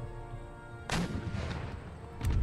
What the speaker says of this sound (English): they're going to get a shot in the back with gunfire